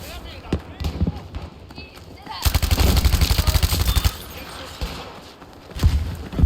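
Gunfire in the video game Battlefield V, with scattered single shots and then a dense burst of rapid automatic fire, loud and close, while someone talks excitedly around it.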